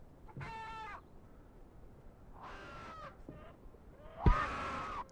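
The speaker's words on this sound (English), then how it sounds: "Yo, who wants some eggs? Don't touch the good hen." Hens in the horror game Silverpine Creek give a few harmonic squawking, clucking calls in separate bursts, with one louder call near the end over a dull ambient background.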